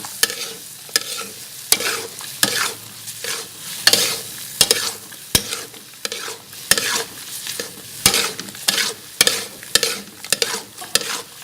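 Beef karahi being stirred and fried, loud sharp metal-on-metal scrapes and clacks of a spatula in the wok recurring every second or so over a constant close sizzle, with no talking.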